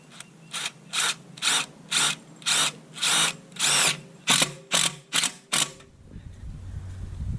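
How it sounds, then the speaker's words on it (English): A small impact drill drives screws during a wind turbine install on a storm shelter, about eleven close, loud bursts of whirring and ratcheting in quick succession, then quiet. "Do you guys have one of these little impact drills?"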